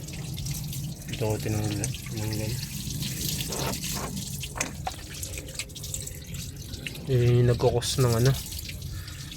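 Water drains from a clogged car radiator during a cleaning, a steady trickling and dripping running throughout beneath someone talking in Tagalog.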